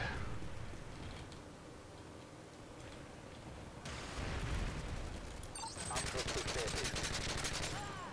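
Gunfire in Call of Duty Modern Warfare 3, a video game: bursts of rapid automatic shots and scattered single cracks from around a corner, fairly faint and mixed with game ambience, sharpening into dense rattling fire toward the end.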